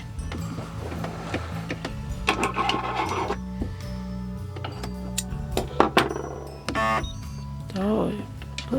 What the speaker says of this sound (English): bloody sewing machine.